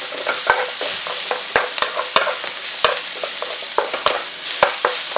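Steady crackling sizzle of peppers and tomatoes frying in a hot pan for a Quorn jalfrezi, with intermittent sharp clicks and scrapes of stirring, no voices.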